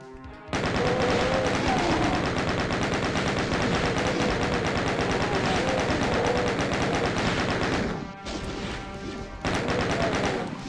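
Rapid sustained gunfire from weapons in the PC shooter Final Doom, loud and continuous for about eight seconds, with a brief drop before the shooting resumes; a voice is heard only faintly.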